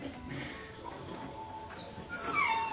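Faint, soft dog whimpers rise into thin high whines near the end, quiet and close against a low indoor background.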